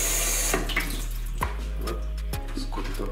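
Water runs steadily from a kitchen tap while raw chicken is rinsed for soup, a loud continuous splashing stream with a few sharper clunks and shifts as the meat is handled under it.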